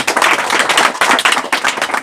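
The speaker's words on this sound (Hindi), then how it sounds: "एक बार जोरदार ताली बजाए पिता परमेश्वर के लिए" A church congregation claps loudly and steadily, a dense, close wash of many hands beating in an uneven rhythm, with no voices over it.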